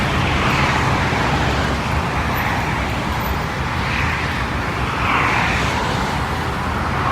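Road traffic in Muscat, Oman flows past as a steady broadband roar of engines and tyres, loud and continuous with no clear individual passes standing out.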